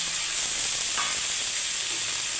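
Moringa flowers, potato and crumbled egg frying with onion in a pan give a steady, close sizzle with a constant bright hiss and faint stirring noises, no talk.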